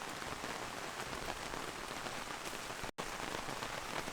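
Rain patters densely and evenly on the fabric of an iKamper Skycamp rooftop tent and its awning, a close, steady hiss with no voices and one brief dropout.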